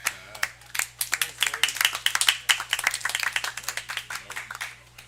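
Audience at a comedy show clapping, with dense, uneven hand claps building to a peak and then thinning out over a few seconds, fairly close.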